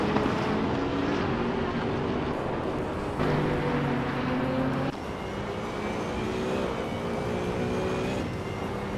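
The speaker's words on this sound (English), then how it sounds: "Maya is driving a 2011 Ferrari 488 GT3." Ferrari 488 GT3 race car engine in a racing game, a loud sustained drone with shifting tonal pitch and sudden steps as gears change, steady throughout with no talk.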